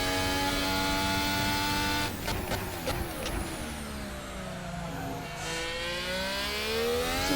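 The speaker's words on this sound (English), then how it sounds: "Hear the front tyre scrubbing through there" An F1 car in a racing game at the Chinese GP, engine droning loudly and steadily with shifting pitch, and a brief rattling scrub of the front tyres through a corner partway in.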